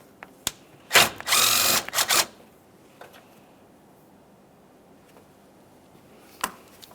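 A 10mm mounting bolt on the coolant reservoir of a 2009-2014 Nissan Maxima 3.5L V6 is loosened with a power tool, giving one loud burst of about a second, a brief follow-up whir, a few faint clicks and a later single sharp tap.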